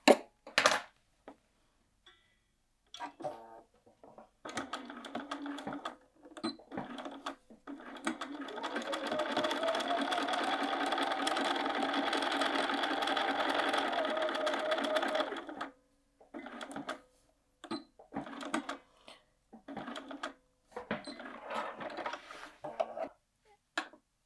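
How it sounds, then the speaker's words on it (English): A sewing machine stitching along a free folded fabric edge while a bag's main body is assembled, running in one long steady burst with short starts and stops for backtacking before and after, close by, with brief speech between. "Now here we are at the machine, and we're just going to sew once again right along this free folded edge here."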